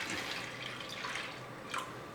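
Water poured into a clay pot of lentils, a soft trickling and splashing with a few brighter splashy bursts, fairly quiet and close, with no talking.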